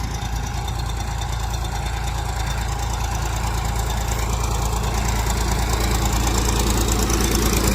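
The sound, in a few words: tractor engine running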